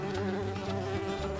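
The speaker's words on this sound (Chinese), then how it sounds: "苍蝇来救朋友" Flies buzz in a toy animation, a steady, close, droning hum with a wavering pitch and no voices over it.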